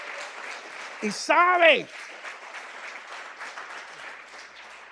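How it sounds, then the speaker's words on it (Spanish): A church congregation applauding during a sermon, a sustained wash of many hands clapping at moderate volume, with a voice speaking briefly over it near the start. "Denle un aplauso al Señor."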